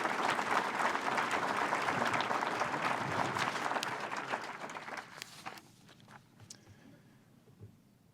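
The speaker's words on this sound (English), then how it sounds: "Would you please join me in giving them an applause?" Applause from the audience at an economic development annual meeting, a full round of clapping that fades out over the last few seconds into scattered claps and room noise.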